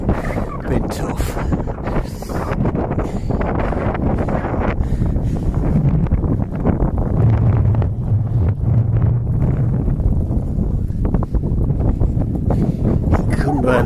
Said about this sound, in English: This wind's been tough.